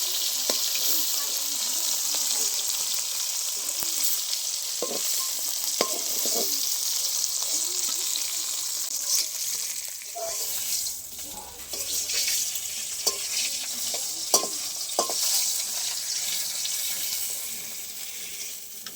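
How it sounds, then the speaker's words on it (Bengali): Kalbasu fish frying in oil in a pan, a steady close hiss of sizzling throughout with occasional clicks and scrapes of a utensil and a brief dip midway. "মাছগুলো ভাজা হয়ে গেছে এই দেখুন ভালো করে লাল লাল করে ভেজে নিয়েছি"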